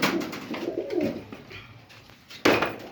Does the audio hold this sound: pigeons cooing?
yes